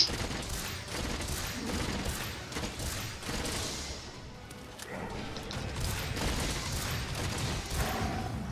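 Continuous shooting in Monster Hunter World: Iceborne, a dense barrage of gunfire and crashing impacts that dips briefly midway before resuming at full intensity.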